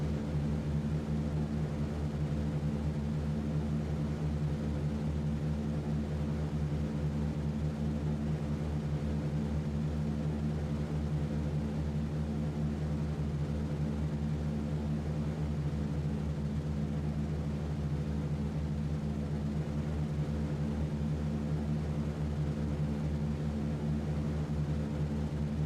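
Steady multi-engine propeller drone of a B-17 bomber at takeoff in a video game, a constant loud droning hum that holds unchanged throughout with no talking.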